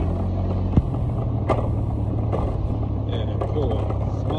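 A 2001 Honda Smart Dio AF57 scooter with idle stop runs at a steady low hum while being ridden. Road and wind noise surround it, and someone talks over it throughout.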